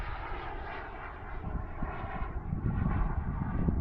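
AeroFoam L-39 model jet cruising at about half throttle, giving a steady, moderately loud whooshing engine drone that swells slightly toward the end, with no talk.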